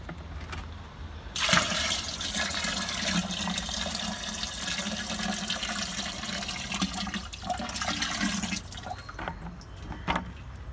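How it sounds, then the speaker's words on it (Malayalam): Water is poured from one vessel into a container holding fish, a continuous splashing gush starting abruptly and running for about seven seconds before tapering into a few drips, close and alone. "ഈ ഇതിലുള്ള ഈ വെള്ളം തന്നെ നമുക്ക് ഇതിലേക്ക് ഒഴിച്ചു കൊടുക്കാം"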